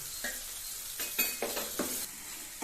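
Onions and vegetables sauté in a pan for a dry seer fish kuzhambu, a soft steady sizzle broken by several scraping stirs of a spoon against the metal, close by with no talking.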